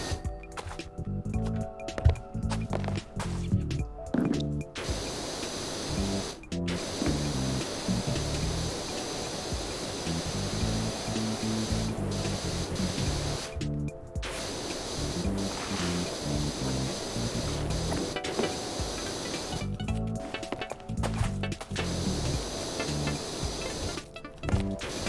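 Pressure washer spraying in Powerwash Simulator: a steady, hissing jet of water that runs almost continuously, with a few short breaks where the spray stops and restarts.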